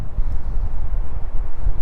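Wind gusts steadily outdoors on a hot day during a bikepacking trip, a continuous low rumbling buffet across the microphone with no speech.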